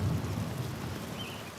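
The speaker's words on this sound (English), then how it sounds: "You're booking it through the rain" Rain falling in the video game Pentiment, a soft continuous hiss of steady rainfall with a low rumble underneath, faint and unbroken.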